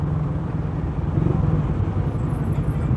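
Steady road traffic rumble heard from a Raider 150 motorcycle stuck in heavy, slow traffic, a constant low engine drone with a faint high whine, no voices.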